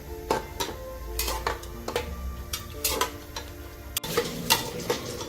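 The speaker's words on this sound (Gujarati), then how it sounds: "આને પાંચથી દસ મિનિટ થોડો ફૂલ ગેસ કરી અને હલાવતા રહેવાનું છે" Carrot halwa stirred in a pan on high flame, a low sizzle under rhythmic scraping and tapping of a spoon against the pan, close and busy, with no talking.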